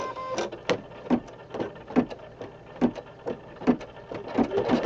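An embroidery machine runs a placement stitch for a Valentine hug rug, giving a steady series of close, rhythmic mechanical thumps and whirs about twice a second.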